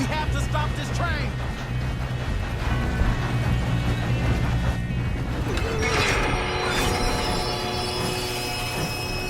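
A train rolls along in the Red Dead Redemption 2 video game, with a continuous rumble of cars and wheels, metallic squeals and clanks, and bursts of talk over the noise.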